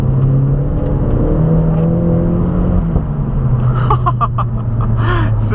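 The engine of an Opel Corsa OPC 230 hp revs loud and close with a steady droning whir. A cluster of sharp exhaust pops and crackles breaks out near the end.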